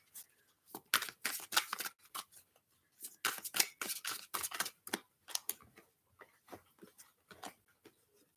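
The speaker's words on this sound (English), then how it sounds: "I'll just shuffle the cards." Tarot cards being shuffled up close, heard as a run of crisp riffling and flicking bursts in uneven clusters with short pauses between, with no talking.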